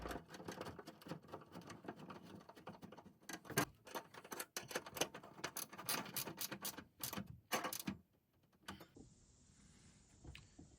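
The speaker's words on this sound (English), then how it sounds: "Reinstall the 10mm bolt to hold the actuator in place." Ratcheting clicks from a wrench tightening a 10mm bolt on a power tailgate lock actuator of a 2016-2023 third-gen Toyota Tacoma, rapid close mechanical ticks with pauses, then a quieter stretch with a faint steady hiss.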